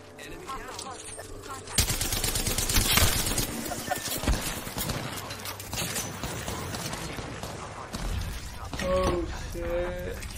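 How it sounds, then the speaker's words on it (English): Bursts of gunfire from the video game Apex Legends crackle in rapid volleys amid game sound effects, with players talking over the action. "I am taking fire."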